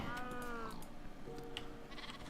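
Sheep bleat in the Minecraft Sky Factory game world, two wavering calls, the first longer and clearer, the second shorter and fainter, over a steady low background hum.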